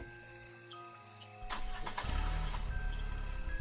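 A car engine cranks and catches, then settles into a steady, loud running rumble that fills the rest of the moment as a family sets off at dusk.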